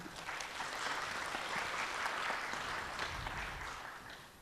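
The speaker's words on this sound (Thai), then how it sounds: "ช่วยปรบมือท่านนิดนึงครับ" Steady applause from an audience, a soft wash of clapping that swells and then tapers off.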